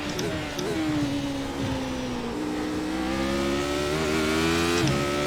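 A Radical SR8 race car engine in iRacing drones steadily with a strong tonal whine that slowly shifts pitch through gear changes and throttle at Oulton Park, with a voice faintly audible beneath.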